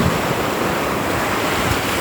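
Rough sea waves wash continuously onto the beach at Stalis, Greece, a loud, steady broadband roar mixed with wind buffeting the microphone.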